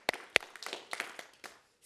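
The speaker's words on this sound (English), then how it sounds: "Let's give them a big hand" A small group at LEGO House claps for a couple of seconds, a sparse, uneven patter of hand claps with a few sharp louder ones that quickly dies away to quiet.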